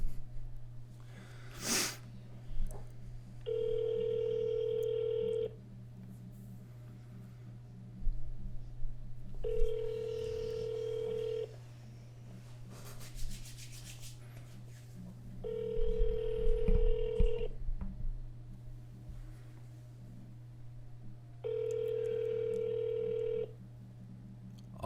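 A telephone call ringing out during a real estate cold calling session, with four evenly spaced ring tones repeating every few seconds over a steady low hum and scattered background noises.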